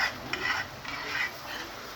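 Food browns in a pan for gravy while a utensil stirs it, giving a close, continuous sizzle overlaid with rhythmic scraping strokes against the pan.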